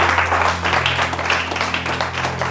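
A church congregation applauds at a worship service, a dense, steady wash of many hands clapping that stays loud and even from start to finish, with no words spoken.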